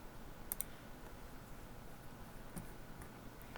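A computer mouse clicks faintly while completing a work order in laboratory software, with a pair of quick clicks near the start and a few single soft clicks later over a quiet room hum.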